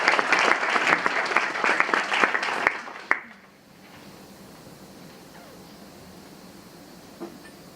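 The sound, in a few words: audience round of applause at a forum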